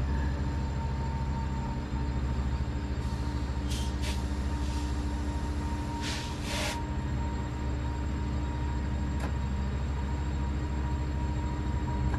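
A passenger train in the video game Train Sim World 5 runs on the Antelope Valley line from L.A. Union to Burbank, with a loud, steady engine drone and rail rumble and a few brief high squeals or hisses, no talk.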